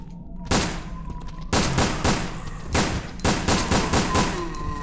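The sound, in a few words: gunfire shooting zombies in video game Resident Evil Dead Aim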